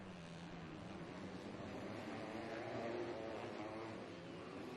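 MX2 motocross bikes race at the MXGP of Indonesia, their engines a steady, dense, buzzing drone with rising and falling revs from several machines at middle distance, continuous and fairly loud for the whole stretch.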